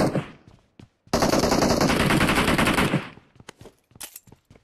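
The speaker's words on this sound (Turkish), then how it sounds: "Adamları bayılttım diye mermi salıyorum, bayılmıyorlar" Automatic gunfire in PUBG Mobile: a long, loud sustained burst of rapid shots lasting about two seconds, bracketed by a few isolated single shots and short bursts before and after.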